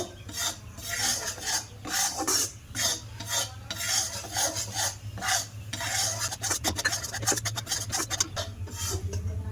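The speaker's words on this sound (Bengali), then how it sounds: "এবার চালের গুঁড়োটা ভালো করে ভাজা করে নেব" Rice flour fried in hot ghee is stirred and scraped around a pan for bhapa pitha, a rough rasping scrape repeating in uneven strokes over a low steady hum, with no voices.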